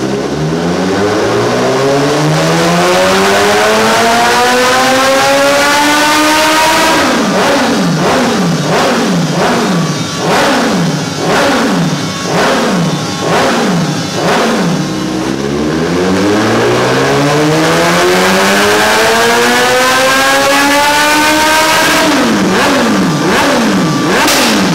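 A Suzuki Bandit 1250 motorcycle with a full 4-2-1 race exhaust revs up repeatedly on a dynamometer, climbing in pitch, then pops and burbles as the throttle drops between pulls, all at close range.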